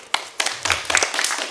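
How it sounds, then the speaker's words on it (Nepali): Audience clapping at a Nepali singing competition event: a few scattered hand claps starting sharply, then a denser burst of applause building over about a second and a half, fairly close and moderately loud. "उहाँहरूलाई जोरदार ताली।"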